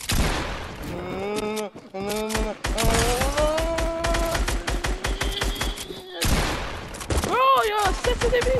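Gunfire in a 1v1 video game match, bursts of rapid shots running through most of the stretch with loud tonal game sounds and talk mixed in.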